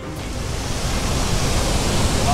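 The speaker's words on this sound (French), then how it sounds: "À certains endroits, le courant est carrément impressionnant et le profil de la rivière, avec ses énormes cascades," River rapids and large waterfalls make a loud, continuous rushing roar of water that stays steady and close for the whole moment.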